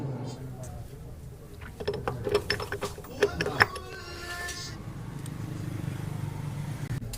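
A clutch nut being tightened on a motorcycle engine, a short cluster of metallic ratcheting clicks and clinks in the middle, close and fairly quiet, with someone talking and a low background hum throughout.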